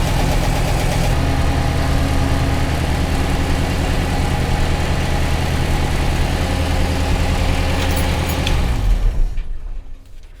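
A vehicle engine idling steadily just after starting, a loud, close, even rumble with constant low throb that holds for most of the stretch before dropping off near the end.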